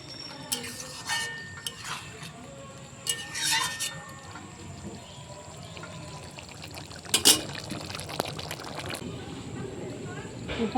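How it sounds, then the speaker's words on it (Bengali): A pan of hotel-style shrimp curry with potatoes, pointed gourd and a little sugar is stirred, with scattered scraping, clinks and wet sloshing over a low simmer. "চিনি দেওয়ার পরে একটু নেড়ে চেড়ে দেবো"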